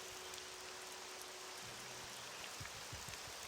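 Continuous modded rainfall in OpenMW Morrowind on a Steam Deck, an even hiss of drops with a few low thumps and patters toward the end, no voices.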